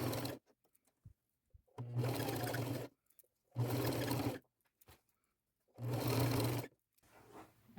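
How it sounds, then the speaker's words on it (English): A sewing machine stitches a jean skirt and white blouse outfit dyed green, running in three sustained bursts of about a second each with short quiet pauses and faint clicks between. "I'm going to go get this sewn"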